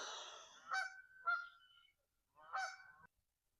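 A few geese give several separate honks: an opening call, two quick honks, then a pause before one more clear honk. The calls are fairly close, with silence in between and no voices.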